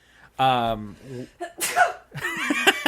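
A single sharp sneeze bursts out, followed by soft laughter and a few murmured voices close by.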